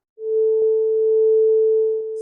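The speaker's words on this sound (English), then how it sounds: "see that it is a sine wave" A pure sine test tone from a tone generator starts abruptly and holds one steady pitch for about two seconds, loud and clean, with a few faint clicks over it before it cuts off.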